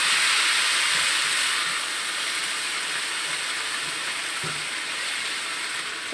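Vegetables dropped into a hot wok for fried rice vermicelli give a loud, even, broad sizzle that holds steady and eases off slightly after the first couple of seconds.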